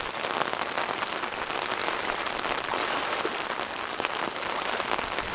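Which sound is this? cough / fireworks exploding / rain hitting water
rain hitting water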